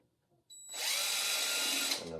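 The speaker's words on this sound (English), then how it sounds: "Drill a little hole there." A power drill bores a small hole in a slab-built wooden birdhouse. A short whine comes first, then a loud, steady, close grinding buzz that holds for well over a second with no talk.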